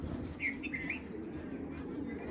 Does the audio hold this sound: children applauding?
no